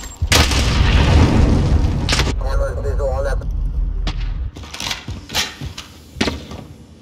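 A stun grenade goes off in a Call of Duty Modern Warfare team deathmatch, a loud boom with a rumbling tail, followed by scattered gunfire and impacts. A voice calls out just before it.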